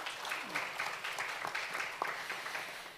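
Fairly faint clapping from a conference audience at the 2022 Jeju Plus International Environmental Forum, scattered sharp claps within a continuous patter, with a little background voice.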